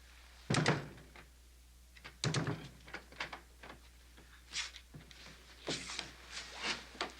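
A locked door is tried with a couple of heavy thunks and rattles followed by several lighter knocks and clicks, close by and fairly quiet in an indoor room.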